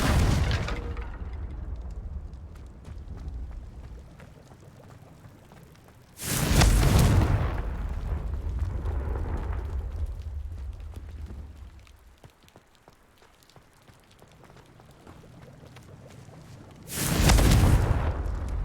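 Confringo fire spell blasts in the video game Hogwarts Legacy: loud booming explosions, one near the start, one at about six seconds and one near the end, each followed by crackling, rumbling debris; no talk.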